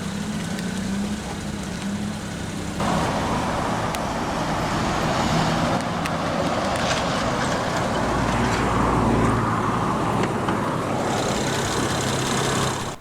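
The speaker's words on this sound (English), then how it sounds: "335i is the BMW N54 B30 3-liter twin-turbocharged inline-6 engine." A 2007 BMW 335i with the N54 3-liter twin-turbo inline-6 runs close by, a dense steady roar that steps up in level a few seconds in and stays loud and even, with no talk over it.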